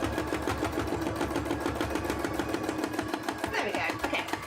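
An embroidery machine stitches at a fast, even rhythm, a close, steady mechanical chatter of rapid needle strokes with no pauses.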